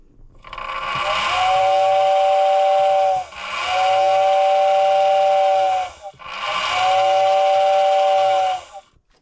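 Whistle mounted on a billboard, hooked up temporarily, blows three loud, close, steady tones of about three seconds each with airy hiss, separated by brief pauses.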